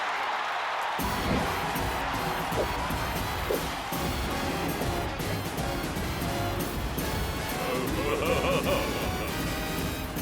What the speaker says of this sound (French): veuillez réserver un tonnerre d'applaudissements pour les danseurs du Buddy Watkins Buckingham Palace